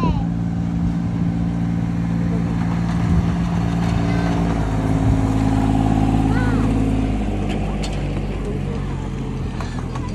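A small park train ride chugs along with a steady engine drone and some mechanical clatter, close and continuous, while people talk over it.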